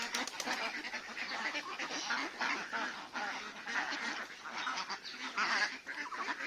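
Ducks on a farm holding around 500 birds, a dense, continuous chorus of honking and quacking from many birds at once that stays busy and fairly loud throughout, with no talking.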